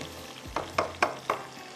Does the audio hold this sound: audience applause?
no